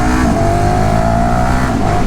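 A moped engine runs close and loud with a light steady rev, its pitch easing slightly before a brief lift near the end.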